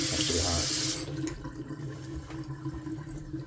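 Hot shower water from a Navien water heater runs steadily, a loud broadband rush for the first second before it drops to a softer, continuous flow with faint background clatter.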